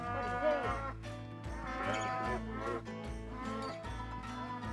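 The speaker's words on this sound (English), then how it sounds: "So what is going on now is sorting of the cattle in different," Cattle low and moo repeatedly and loudly at close range while being sorted into groups at a livestock gathering, several overlapping calls following one another with no talk over them.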